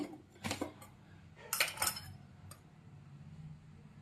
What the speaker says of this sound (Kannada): ಬಾಣಲಿ ಇಟ್ಟಿದ್ದೀನಿ. ಇದಕ್ಕೆ ತುಪ್ಪನ 1-2 ಸ್ಪೂನ್ ಆಗೋವಷ್ಟು ಹಾಕ್ತೀನಿ